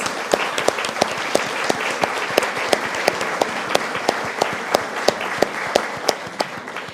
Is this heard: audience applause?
yes